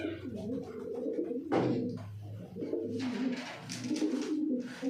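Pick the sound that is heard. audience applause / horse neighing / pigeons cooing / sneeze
pigeons cooing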